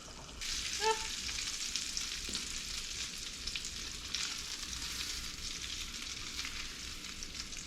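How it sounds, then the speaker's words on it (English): Kingfish mackerel frying in hot butter in a pan, a steady loud sizzle running throughout with a brief burst of crackle near the start and no talking. "I love cooking with butter, especially fish."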